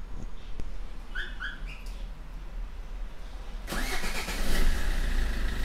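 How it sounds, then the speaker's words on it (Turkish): A Fiat Doblo's engine is remote-started with nobody inside the car, cranking abruptly after a quiet stretch of outdoor ambience with faint bird calls, then settling into a steady, fairly loud idle. "Uzaktan çalıştırıyorum şimdi."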